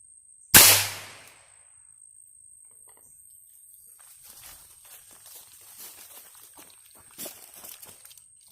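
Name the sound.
22 long rifle shot into a cantaloupe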